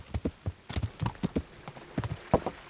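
A horse in Kingdom Come: Deliverance clip-clops at a walk, its hooves striking in an uneven series of close, distinct thuds over a quiet background.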